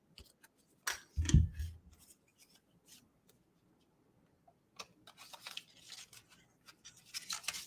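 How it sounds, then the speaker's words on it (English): Scissors snip through a sheet of paper in one brief, close crunch near the start, followed by quieter scattered rustling and handling of paper. "Get my scissors and trim this down so I don't have to pull with such a big piece of paper."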